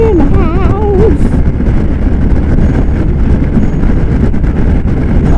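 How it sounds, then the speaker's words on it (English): Wind roaring during a ride on a Burgman motorcycle, a loud, steady broadband rush that runs throughout, with a brief warbling tone near the start. "I can hear the wind"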